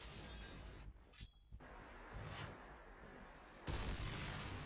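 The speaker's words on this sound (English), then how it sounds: "Whoa. That was big explosion right there." Gunfire and blasts during an esports shooter match, a harsh wideband roar with sharp cracks and a big, loud explosion burst near the end, no clear talk.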